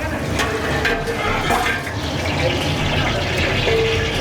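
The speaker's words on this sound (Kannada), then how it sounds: "ಹಲಸಿನ ಬಿರಿಯಾನಿಗೆ ಮೊದಲು 2 ಲೀಟ್ರ್ ಎಣ್ಣೆನ ಹಾಕ್ಕೊಂಡ್ರು" Two litres of cooking oil poured into a large pot as the first step of a 10 kg jackfruit biryani, a steady continuous liquid rush running throughout with faint background voices.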